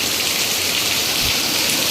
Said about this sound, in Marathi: पाऊस जेरी पाऊस कुठे? पाऊस हे बघ